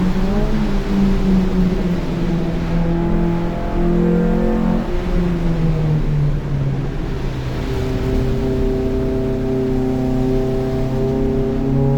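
A Lemons endurance race car at Ridge Motorsports Park drives flat out down the straight. Its engine drone is loud and close, with the pitch climbing through the gears and dipping at each shift, and no one speaks over it.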